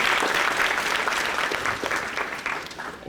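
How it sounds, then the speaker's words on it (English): A school graduation audience gives another round of applause for the dean, dense clapping that holds steady and then thins slightly toward the end. "want to give another round of applause to the dean"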